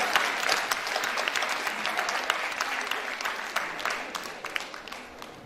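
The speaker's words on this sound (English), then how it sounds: "Huge round of applause." Dense, steady applause from a school audience at a science day, many hands clapping together at a constant level with no gaps across the whole stretch.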